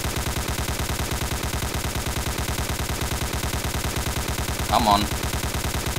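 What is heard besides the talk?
gunfire in a war video game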